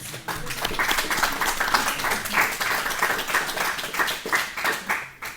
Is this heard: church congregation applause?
yes